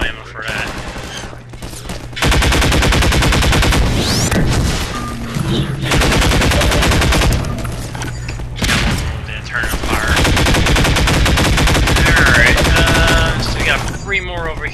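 Rapid bursts of gunfire in the video game Half-Life 2, loud and sustained volleys with short pauses between, layered with game effects and occasional speech.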